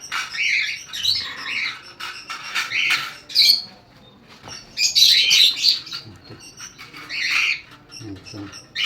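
Lovebirds chirp and squawk in bursts, close and busy, with sharp shrill calls overlapping and faint handling noise in between.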